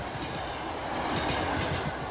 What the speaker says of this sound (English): The train's been rolling for 13 hours.